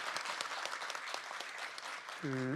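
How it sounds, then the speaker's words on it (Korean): A room full of people at a Korean presidential candidate's digital policy forum claps steadily in sustained applause, ending with a short electronic tone. "큰 박수 부탁드립니다"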